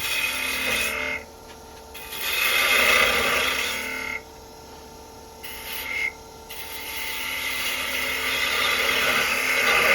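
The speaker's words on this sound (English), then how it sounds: "I'm just going to use my bowl gouge in order to make a bead" A bowl gouge cuts a bead on a wooden spinning top turning on a lathe, giving a steady whirring hiss that swells and drops as the tool engages and lifts off the wood.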